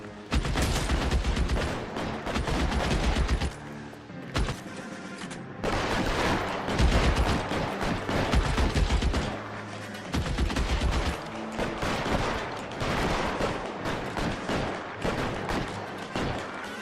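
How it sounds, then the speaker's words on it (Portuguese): A gunfire shootout in the video game L.A. Noire, with rapid volleys of shots and booms in dense loud bursts separated by brief lulls. "Mas eu não estou a perceber este tiroteio"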